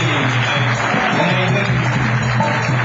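Loud, dense applause closes a live performance by the musicians of Soelitsch Café, a steady wash of many hands clapping with no voices on top.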